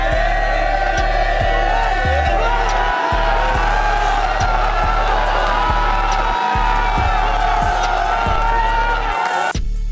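A large crowd at a FlipTop rap battle erupting in a sustained roar of shouts and whoops, loud and continuous throughout, while a regular low thump pulses beneath it.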